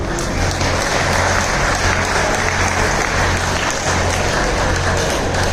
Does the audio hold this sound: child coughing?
no